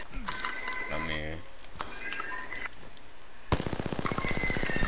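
Video game gunfire comes in bursts with mechanical clinks and tonal game sounds, ending in a loud, rapid automatic burst that grows denser toward the close.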